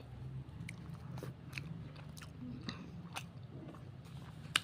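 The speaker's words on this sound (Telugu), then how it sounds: "ఇది మామూలు దోశ. టేస్ట్ చేసి చెప్తా." Someone bites into a plain dosa and chews it, giving soft close crunches and mouth sounds over a steady low background hum, with one sharper click at the end.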